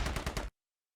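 A rapid burst of automatic gunfire in a squad-based war game fires four or five close, loud shots in quick, even rhythm and then cuts off abruptly into silence.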